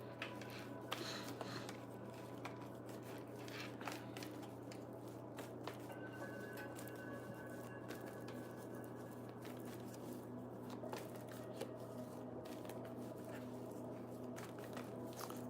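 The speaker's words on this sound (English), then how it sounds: "let me just shuffle these cards real quick" Tarot cards shuffle in soft, repeated riffles and faint squishy shuffling, quiet and close against low background noise, with no talking.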